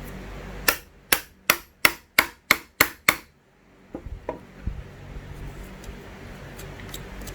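Chisel chopping out wood for a bridle joint: eight sharp, evenly spaced mallet strikes in quick succession up close, followed by a few softer taps and scraping as waste is cleared.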